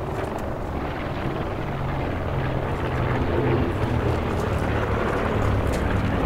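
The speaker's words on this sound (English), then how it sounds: "There's a helicopter flying around." A helicopter circles nearby in a steady low rotor drone that stays fairly quiet but constant, swelling slightly in the second half, with no talk over it.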